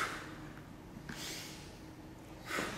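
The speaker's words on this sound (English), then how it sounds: "Sniff in, breath out, sniff in," Faint breathing during kettlebell snatch practice: two quick sniffing inhales, with softer exhales between them, in the 2-cycle breathing pattern.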